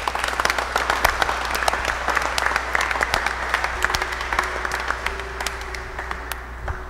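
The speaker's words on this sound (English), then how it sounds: "Let's give them again a round of applause." Sustained applause from a church congregation at an evening Holy Mass, dense steady clapping throughout that gradually thins toward the end, with faint background tones.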